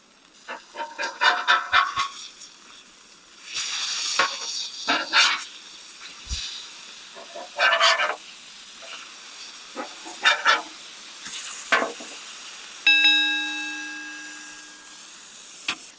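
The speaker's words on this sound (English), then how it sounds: "Put a little oil down, threw the burgers on. Here we go, the initial cook." Burgers sizzle on an oiled Blackstone 28-inch XL griddle in bursts of hissing steam, broken by a barking dog, with a short electronic beep near the end.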